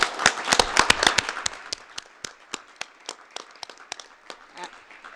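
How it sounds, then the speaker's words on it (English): A small group claps for a newly appointed finance director at a city council afternoon session, starting as a brisk scatter of close claps and thinning to a few slower, isolated claps within a few seconds. "Let's give her a round of applause."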